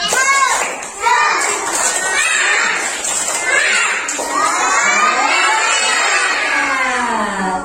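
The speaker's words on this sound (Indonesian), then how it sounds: "Iya, tepuk semangat." A class of schoolchildren in a morning lesson performs a spirit clap chant together, loud group shouting and cheering filling the room throughout with little pause.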